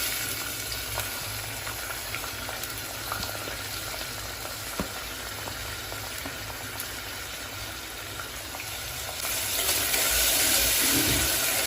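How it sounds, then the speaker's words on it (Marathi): Chopped onion sizzles and fries steadily in hot oil with bay leaf, black pepper, cloves and cinnamon for a spicy Konkani chicken dish, a continuous close crackle that swells louder near the end, with no talking. "कांदा आपण छान परतून घेऊया"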